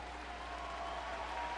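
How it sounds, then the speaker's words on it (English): A baseball crowd applauds as pitcher Tyler Chatwood leaves the game, a steady, distant wash of clapping held at an even level throughout. "He'll depart with a nice round of applause here."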